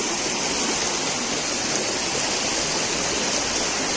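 Water pours down over rock in the Konkan countryside, a dense, steady roar of falling water heard close and alone, with no voices.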